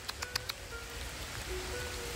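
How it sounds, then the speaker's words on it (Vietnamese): Rain falls softly and steadily over a durian orchard in Chau Thanh, Dong Thap, a faint even hiss opening with a few sharp taps, no one speaking. "Đây nè, đang mưa rồi các bạn ơi."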